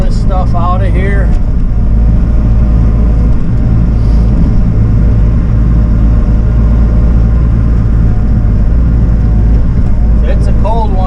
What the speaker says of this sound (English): Got the other machine warming up for Curtis so that he can shuttle this stuff out of here.